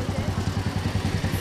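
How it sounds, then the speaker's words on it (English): A 1960 John Deere 430 utility tractor in mostly original condition idles nearby in a fair parade, its engine thumping in a steady, even, rapid chug. "Following the 1966 lawn tractor today is a 1960 John Deere"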